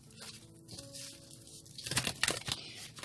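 Tarot or oracle cards are shuffled for a reading, crisp riffling and sliding bursts close to the mic that grow busier and louder in the second half, with no voices.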